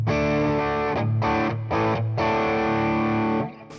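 Electric guitar driven through a Tube Screamer overdrive pedal into a Fender Deluxe Reverb amp, playing sustained distorted chords with brief gaps between strums, loud and upfront with no talking.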